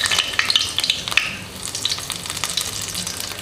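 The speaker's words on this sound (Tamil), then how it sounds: "எண்ணெய் சூடானோடனே 2 பட்டை, ஏலக்காய், 2 கிராம்பு, கூடவே கொஞ்சம் கருவேப்பிலை" Whole cinnamon, cardamom, cloves and curry leaves crackle and spit in hot oil for a Chettinad chicken gravy, with sharp close pops over a steady sizzle and no talking.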